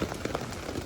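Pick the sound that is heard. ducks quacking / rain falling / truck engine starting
rain falling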